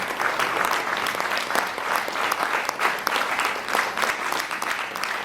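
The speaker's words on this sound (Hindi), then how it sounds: "तालियों के साथ आप स्वागत करें।" A crowd at a philatelic stamp exhibition ceremony applauds as the chief guest is presented with a memento, producing continuous, even clapping at moderate volume throughout.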